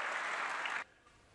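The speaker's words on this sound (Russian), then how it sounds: "Выступая на этой неделе в Конгрессе США, Трамп подчеркнул важность атомного арсенала в американской оборонительной стратегии и сорвал аплодисменты." Applause in the US Congress, a dense burst of clapping that cuts off abruptly after under a second, leaving a faint room hush.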